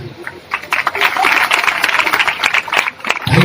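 An audience at an Odia Christian sermon claps loudly together, a dense, sustained burst of applause building for about three seconds before fading.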